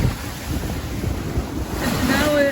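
Strong wind buffets the microphone as a sailboat with reefed sails heads into 25-knot headwinds and choppy water, giving a constant rushing roar with splashing waves building toward the end.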